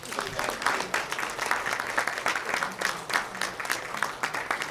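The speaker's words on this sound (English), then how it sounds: "Let's give a round of applause." Audience applause closes a church panel discussion on the experience of persons of color, a steady mid-distance clapping that continues evenly throughout.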